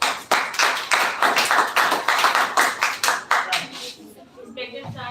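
A small audience claps for the next speaker at a school computer education speech event, a loud burst of rhythmic clapping that thins and stops after about four seconds, followed by a voice beginning to speak.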